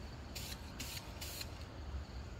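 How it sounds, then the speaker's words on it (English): Spray paint hisses onto a stainless steel tumbler in three short, even bursts, quiet and close, with no talking. "I am not the best spray painter by any means"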